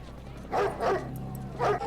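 A dog in the 1995 film Vampire in Brooklyn barks three times, two quick close barks and then one more after a pause, over a low background hum.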